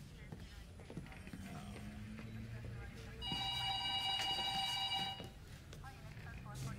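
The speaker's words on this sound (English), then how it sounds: "that's your phone" A telephone rings partway through, a bright trilling bell burst lasting about two seconds over quiet indoor background, with a muffled voice and movement around it.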